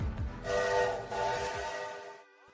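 A loud train horn sound effect blares in a sustained multi-tone blast lasting about two seconds, then cuts off and fades, with no talking.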